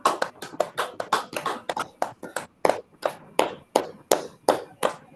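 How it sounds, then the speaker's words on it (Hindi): Hands clap in a steady series during an acupressure workshop, sharp close claps repeating at an even pace with no talking. "ताली बजाइए"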